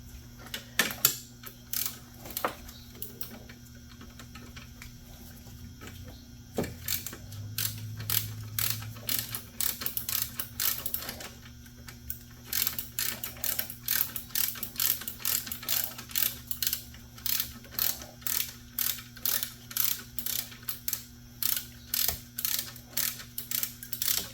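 A ratchet snugs up bolts on a Volvo, rapid clicking pawl bursts repeating in a steady rhythm, close and crisp over a low mechanical hum.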